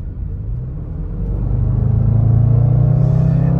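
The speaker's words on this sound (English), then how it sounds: "Let me go ahead and get on the fuel here just a bit so I can show you how it shifts gears" Range Rover Sport SVR accelerating at half throttle from inside the cabin, a deep engine rumble building in pitch and loudness, then a brief pause at a gear shift before pulling again.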